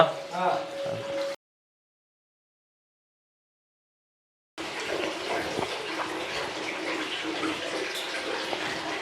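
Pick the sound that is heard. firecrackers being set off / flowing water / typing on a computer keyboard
flowing water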